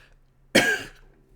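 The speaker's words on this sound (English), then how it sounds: "I literally started coughing" A single harsh cough bursts out close to the mic, with a rough tail fading over a fraction of a second against a quiet background.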